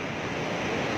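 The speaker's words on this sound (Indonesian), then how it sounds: "ombak" High ocean waves surging onto a southern-coast beach lined with damaged stalls, a continuous close roar of surf mixed with wind buffeting, steady and loud without speech.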